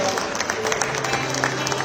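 Brief applause from an audience at a capital markets award ceremony as winners come through, a dense patter of clapping with a voice over it.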